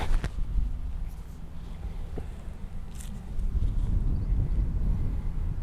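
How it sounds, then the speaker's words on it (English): Wind gusting across an outdoor golf driving range, a steady low rumble of microphone buffeting that swells louder in the second half, with no talk over it. "We've got a wind off right now actually, haven't we, which has come up a little bit"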